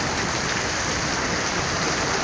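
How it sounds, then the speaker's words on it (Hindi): Heavy rain pours down in Lahore, a loud, steady, dense hiss of falling water with no break, close by and without voices. "माशाअल्लाह लाहौर की अज फुल तेज़ बारिश।"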